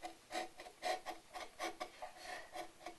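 A carving tool skims lightly over a flat, planed wooden surface on a carved peach, giving soft, rhythmic rasping strokes about every half second, close and fairly quiet.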